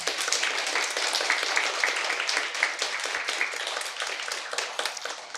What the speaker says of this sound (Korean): 응원의 박수 한번 주죠.